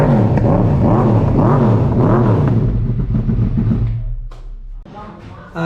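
A Yamaha R1 MotoGP edition sport motorcycle revs hard through its exhaust, loud and close with rising and falling throttle blips, then the engine drops away before a final short burst.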